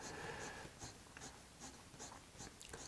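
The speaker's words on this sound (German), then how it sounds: "sodass dein Stift ganz entspannt über die Linien auf dem Papier entlang gleitet" A pen draws straight lines freehand on paper, a quiet scratchy stroke repeating in a steady rhythm about every half second, close to the microphone with no talking.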